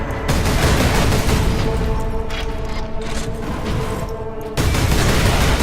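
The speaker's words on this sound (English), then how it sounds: "So shooting that one as fast as I can." Rapid, dense gunfire from the Warhammer 40,000: Space Marine video game, a loud continuous fusillade of shots lasting several seconds with a short dip near the end, heard alone without talk.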